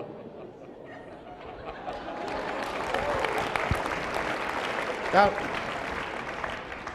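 A lecture audience at Arizona State University claps and cheers, the applause building after a couple of seconds and running steadily to the end, mixed with chatter and light laughter while a voice speaks over it.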